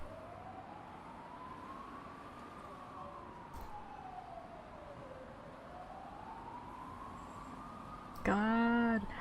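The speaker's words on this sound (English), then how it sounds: "I hear sirens. Is that my end or is that the game? Guessing it's the game." Police siren in the video game Red Embrace: Hollywood, one long slow wailing tone rising and falling in a smooth sweep, moderately distant, then ending with a sudden loud burst of a harsher, stacked tone.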